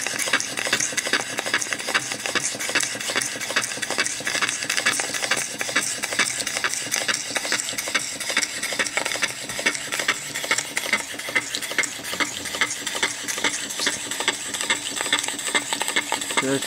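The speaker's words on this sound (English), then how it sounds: "big single acting twin. It's a rotary valve. Just got her underway a few seconds ago." Big single-acting twin rotary valve engine running steadily, a fast continuous clatter of rapid metallic ticks and knocks at even loudness throughout, close by with no voices.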